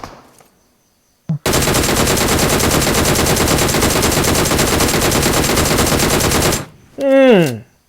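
Sustained automatic gunfire from PUBG Mobile, one long loud burst of rapid shots lasting about five seconds after a brief single shot, followed by a short spoken exclamation.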